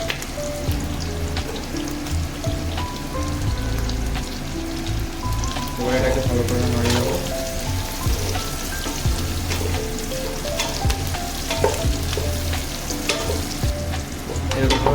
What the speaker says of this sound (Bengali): পেঁয়াজগুলো আমার ভাজা হয়ে গেছে এবার আমি এতে ক্যাপসিকাম দেবো